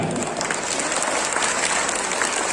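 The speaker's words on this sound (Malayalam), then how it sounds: "Let's have a big clap for the move." Audience applause at a temple Navaham festival performance: a dense, continuous burst of clapping from a crowd, loud and close, filling the whole moment without pause.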